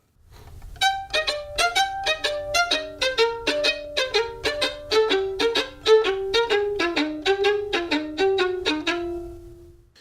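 A violin plays a descending Mendelssohn audition passage of repeated notes in a steady long-short rhythm, close and clear, with no talking.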